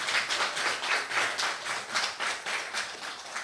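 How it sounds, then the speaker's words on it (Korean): Church congregation clapping together during a Sunday worship service after a baptism, a soft, fairly distant patter of many hands with a loose pulsing rhythm, no talk over it. "우리 하나님께 감사와 영광의 박수 올려드리겠습니다."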